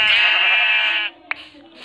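A sheep gives one loud, close, drawn-out bleat lasting about a second, followed by a short click and quiet.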